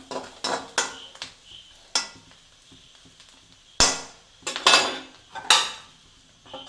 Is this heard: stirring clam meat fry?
yes